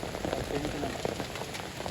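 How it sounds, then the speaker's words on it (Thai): Steady rain falls outdoors during fish sorting after trap fishing, a continuous even patter of drops on surfaces filling the whole moment, with faint voices mixed in. "ฝนตก"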